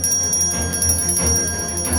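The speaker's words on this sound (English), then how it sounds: "Is this bell broken?" A bell rings in the Gravity Falls cartoon, a repeated metallic ringing over a busy, noisy soundtrack with no voices.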